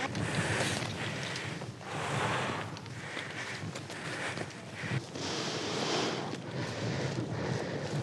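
Wind gusts buffet the microphone on the deck of a polar cruise ship under clear summer skies, a steady roaring rush that swells and eases in waves, with a hint of water and surf beneath.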